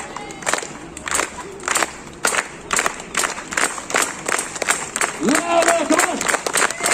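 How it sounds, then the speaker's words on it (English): A street crowd in Dublin claps in unison along with a juggler, sharp regular beats at a steady rhythm, while the performer's voice calls out over the clapping and cheers rise toward the end. "everybody join in one last time. And clap. Everybody."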